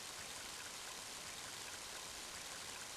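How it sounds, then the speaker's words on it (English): Heavy rain pours steadily in the video game Mother 3, a dense, unbroken hiss of falling water, loud and even throughout with no other sounds. "Mighty heavy rain, isn't it?"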